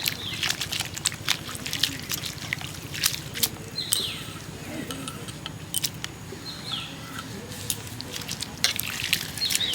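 Grated raw papaya is washed by hand in a basin of water, with continuous sloshing, splashing and swishing close by.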